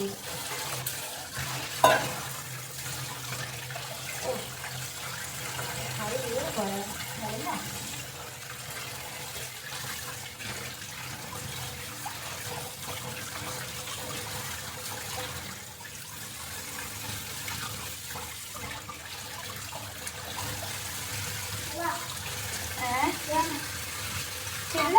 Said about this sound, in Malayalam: പാത്രങ്ങൾ കഴുകാനുണ്ട് അതും കഴുകട്ടെ